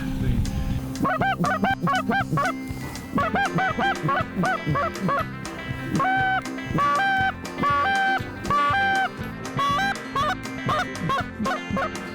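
A flock of geese honks loudly and repeatedly during a goose hunt over big open water and grassland, with overlapping calls forming a continuous rhythmic chorus close by.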